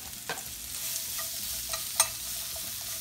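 Onions hitting duck fat in a pan on high heat, sizzling and hissing steadily up close while tongs stir them with light scrapes and one sharper clink; there is no talk.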